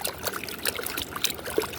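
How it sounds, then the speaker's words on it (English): A gold pan swirls in water, the plastic Turbo Pan floating as water washes over gravel, giving soft trickling and sloshing with scattered small splashes and taps, fairly quiet and close. "Always let the pan float in the water. Don't hold on to it. Let the water do the work."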